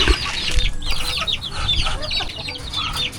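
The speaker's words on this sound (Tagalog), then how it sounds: "So nagutom na po yung mga manok." Hungry chickens cluck continuously and fairly close in a backyard at dusk, a busy overlapping chorus of short clucks with a few higher calls.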